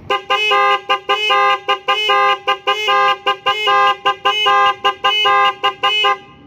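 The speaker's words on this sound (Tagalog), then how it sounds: "mayroon tayong businang malakas" A loud, piercing motorcycle horn wired through a relay blares in rapid repeated bursts, a steady stuttering rhythm of short harsh honks close by.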